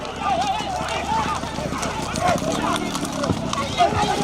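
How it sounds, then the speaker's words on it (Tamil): Horses pull carts in a horse-cart race in Kovai (Coimbatore), their hooves clip-clopping in a rapid, continuous rhythm. An excited announcer talks throughout, and crowd noise fills the background. "மா பெரும் குதிரை வண்டி இயல்கை பந்தயம் மிக சிறப்பாக நடைபெற்றுக் கொண்டிருக்கிறது"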